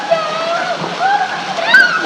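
Water at a waterfall rushes and splashes where children are playing, a steady nearby wash of water running beneath lively voices talking and calling out.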